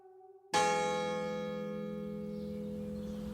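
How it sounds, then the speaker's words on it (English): A church bell summoning monks to worship strikes once after a brief quiet start, its rich ringing tone sustained and slowly fading. "A bell summons the monks to worship."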